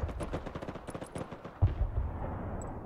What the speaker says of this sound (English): I'm gonna drop artillery right on top of here.